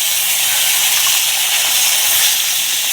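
Chopped onions hit hot oil in a pan over a lit stove, setting off a loud, steady, close hiss of frying that holds without a break and has no voices over it.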